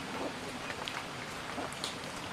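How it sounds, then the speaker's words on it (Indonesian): Rain falls steadily outdoors on a street, a dense, even hiss with scattered light drop impacts, moderately loud and with no talking. "Hujan."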